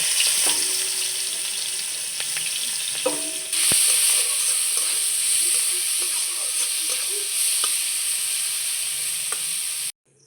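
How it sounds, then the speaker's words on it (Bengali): Chopped green chillies and onion fry in oil left from frying bhola fish, giving a steady bright sizzle and hiss with a few scraping stirs. It runs for about ten seconds and then cuts off abruptly. "মাছ ভাজার তেলে আমি প্রথমেই কুচিয়ে রাখা কাঁচা লঙ্কা ও পেঁয়াজটা দিয়ে দেব"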